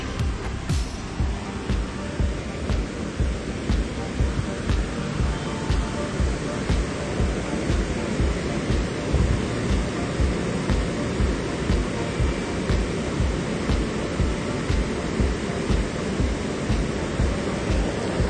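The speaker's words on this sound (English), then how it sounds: "Let's get closer to the waterfall." Brandywine Falls in the forgotten village of Brandywine pours in a steady, loud broadband roar of rushing water, continuous and close throughout, with no speech over it.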